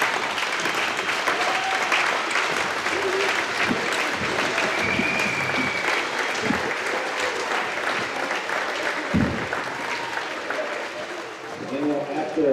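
Standing ovation at a church spring concert, sustained applause from a large audience with scattered voices and crowd murmur mixed in, steady and full for the whole stretch.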